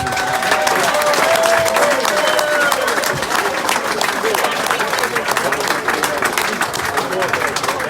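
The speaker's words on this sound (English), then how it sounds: "give a big round of applause for the players, please" Crowd applauding Bishop's Stortford football players at the end of the 2018/19 season, a dense, steady wash of clapping with a few cheers and whistles running throughout.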